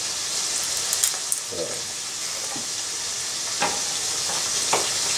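Sandhill crane meat seasoned with salt and pepper sizzles steadily in a pan, a close, even frying hiss with occasional stirring scrapes and no voices over it.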